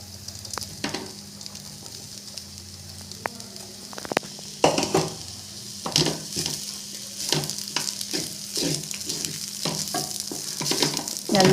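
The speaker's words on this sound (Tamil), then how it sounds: "நல்லா இது மாதிரி வதக்கிடுங்க." Cooked rice with grated coconut is sautéed in a pan, sizzling and crackling close up while a spoon scrapes and knocks against the pan in repeated irregular strokes, no voices.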